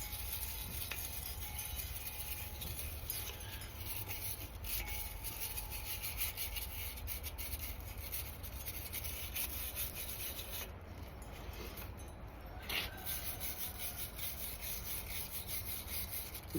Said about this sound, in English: we're just going to keep on kind of filing on this guy, sanding on it, scrubbing it with this wire brush